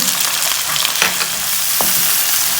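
Chopped tomatoes and green chilies fry in a pan over browned onions, giving a loud, continuous sizzle with a few soft stirring scrapes near the start and middle.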